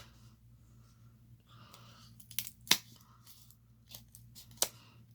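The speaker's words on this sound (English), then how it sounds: "Get you a good pair of scissors that once you cut, that's it." Scissors trim the paper overhang on a handmade craft piece, giving two or three sharp, close snips amid soft rustling of the paper, with a steady low hum underneath.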